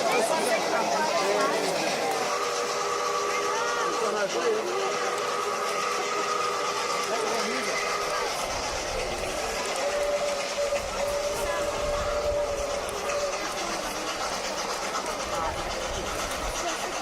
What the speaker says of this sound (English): The train will be coming from down the south